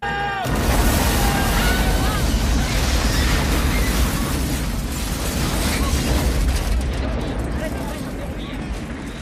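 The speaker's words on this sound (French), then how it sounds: "Voyons d'abord comment Choi Ark filme une explosion dans Double Team." A big movie explosion from the action film Double Team erupts after a brief sharp onset, then a loud, dense roar of blast and debris rumbles on for several seconds, heavy and close.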